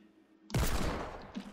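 A single gunshot in a video game, a sudden loud blast that decays with a rumbling tail, with a softer echoing thud just after.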